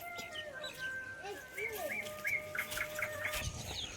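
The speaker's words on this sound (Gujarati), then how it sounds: "જો મોર બોલે છે." A peacock calls from near a neighbouring temple: a string of repeated, rising, slightly wavering cries at moderate distance over a faint outdoor background.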